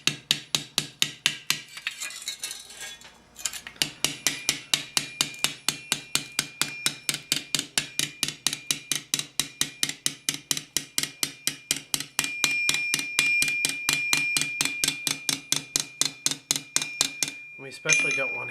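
A hammer strikes steel plate for a Milanese mitten gauntlet in the style of about 1450, shaping it on an anvil with a long, steady run of rapid, evenly spaced ringing blows and a few short pauses.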